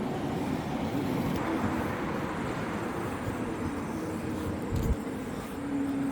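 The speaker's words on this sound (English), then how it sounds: "Some city tour buses." City tour buses roll past on a street near Amsterdam Centraal station, a steady, moderately distant rumble of engines and road noise with a faint thump partway through and no voices.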